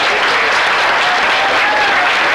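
An audience at a disclosure festival gathering bursts into applause, a steady, dense wash of clapping from many hands, loud and sustained throughout.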